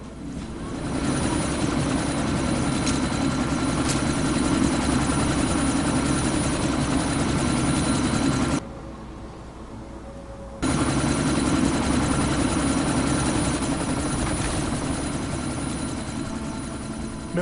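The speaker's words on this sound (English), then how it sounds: "That chopper's about to take off!" Helicopter in Deus Ex: Mankind Divided, a loud steady rotor and engine drone that fills the scene, drops out briefly midway, then returns at full strength.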